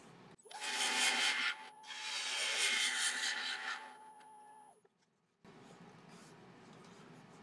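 A sharp bowl gouge cutting into laburnum wood on a lathe for a live-edge winged bowl gives a steady, fairly loud hiss. It runs as two long passes with a brief pause between them, then drops to quiet and is followed by softer, lower rubbing.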